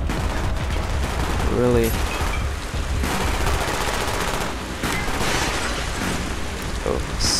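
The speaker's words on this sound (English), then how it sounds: "Fucking shooting from everywhere." Call of Duty Black Ops gunfire, with a continuous loud barrage of shots and bursts from many directions, dense and close, and a brief voice speaking over it.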